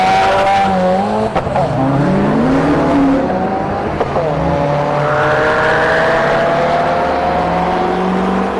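A Subaru and a lifted Ford F250 pickup launch side by side on a drag strip, engines revving hard and climbing through gears with tire squeal, loud and close for several seconds, with occasional voices underneath.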